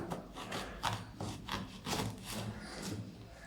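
A knife saws through a peeled raw plantain, giving a soft, rasping scrape in short repeated strokes, close and fairly quiet.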